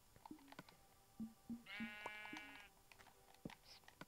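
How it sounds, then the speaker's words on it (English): A sheep in the Minecraft video game bleats with a clear, nasal, wavering cry lasting about half a second, heard alone over soft game ambience and scattered clicks. "Some sheep."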